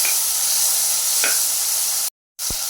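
Tomatoes sizzle steadily in a hot pan with salt added for a vegetable dal rice dish, a loud close hiss with a light stirring knock and a brief cut in the sound near the end.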